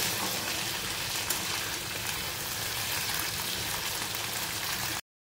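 Ivy gourd (kundri) sizzles in hot oil in a village kitchen, a steady, even hiss and crackle like light rain, alone and fairly faint, cutting off abruptly near the end.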